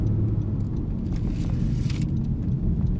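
Car engine rumbling steadily up close with blips of revs during downshifts, a continuous low drone under a modified car with a lowered brake pedal.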